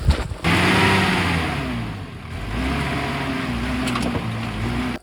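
Car engine revving hard while the car sits stuck nose-first in riverbed sand, a loud, sustained mid-pitched roar that rises and holds with slight dips, close by and without talk.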